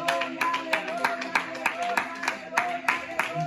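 Congregation clapping in rhythm at a church service, steady loud claps repeating about three times per second, with a faint tonal hum underneath and voices mixed in.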